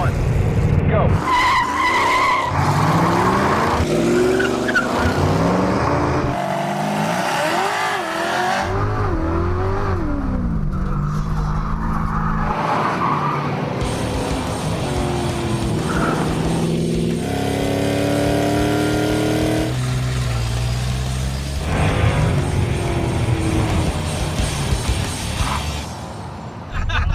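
Several cars including a Super Bee, El Camino, Ranchero and Charger roar through a drag race, with loud revving engines, tire squeal and skidding throughout, close and continuous, and voices heard beneath.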